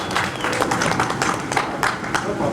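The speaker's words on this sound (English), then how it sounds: "So let's give these guys a round of applause." A crowd at the Heartland Challenge 10-hour ATV race gives a round of applause, scattered claps rising and falling in bursts while people talk nearby.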